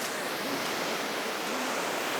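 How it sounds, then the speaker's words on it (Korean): Strong ocean waves surge and crash on a jungle shore, a continuous loud roar of broad surf wash filling the whole stretch with no voices. "근데 지금 파도가 굉장히 세지고 있는데?"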